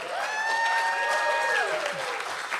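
Audience applause and light cheering for a band and choir at a Kol Nidre service, sustained clapping under sustained musical tones and a faint voice.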